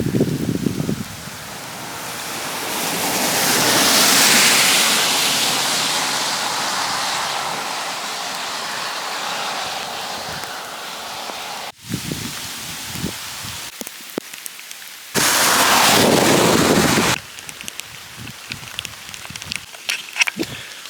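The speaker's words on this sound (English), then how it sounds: "where the rain really hit. Not just the strong mist anymore, but a heavy, powerful storm." Heavy rain pounds down during a powerful storm on a hiking trail along the Camino de Santiago, a loud continuous roar that swells and fades, broken by brief gaps and a later burst of dense downpour.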